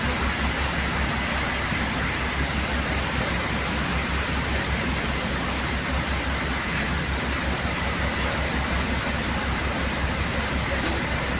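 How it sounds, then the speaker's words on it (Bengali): Heavy rain roars in a thick, unbroken wash that stays loud and even from start to finish, with no one speaking over it. "দেখো কী হারে বৃষ্টি হচ্ছে"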